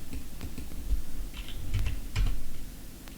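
Keys on a computer keyboard are typed in short, irregular bursts of soft clicks, close and moderately quiet over a low background hum.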